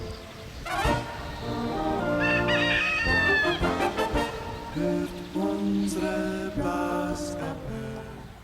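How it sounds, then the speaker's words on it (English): Chickens on a small farm in Germany, a rooster crowing close by amid repeated clucking and squawks from several hens, loud and busy throughout. "A little farm in Muttleraruth with the chickens."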